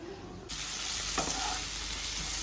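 Snake gourd and egg fry in a pan with a steady, close sizzle, and a utensil stirs and scrapes through the food.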